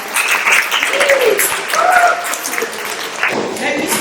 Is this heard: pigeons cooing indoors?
no